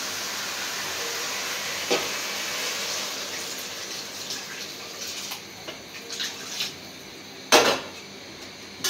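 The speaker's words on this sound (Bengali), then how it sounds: "এখন ঝোল দিয়ে দিব।" Broth is poured into a pan of fried shing fish cooked in masala, producing a steady, close liquid gush for several seconds that tapers off into scattered clinks and a final knock of cookware.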